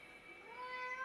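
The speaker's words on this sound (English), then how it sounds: "Yeah, you can meow" A cat perched high on a ledge above a roughly 20-foot drop meows, a single drawn-out, rising call heard close and alone against a quiet background.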